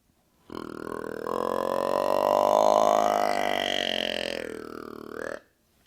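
One long, low bellowing grunt held for about five seconds, rising slightly and then falling at the end, loud and close, a human voice imitating a deer's breeding or tending grunt.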